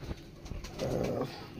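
Pigeons, including a black pigeon and gola line breed pigeons, coo in a loft up for sale, soft low throaty burbling under faint rustling and a few light knocks.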